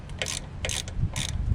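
A T30 Torx ratchet driver loosens crash bar bolts on a Harley Road Glide Special, giving quick ratcheting clicks in three short bursts, close and fairly quiet.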